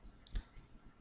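A single faint, short computer mouse click in a quiet setting while creating a smart style in SAP ABAP Smartforms, standing alone without talk.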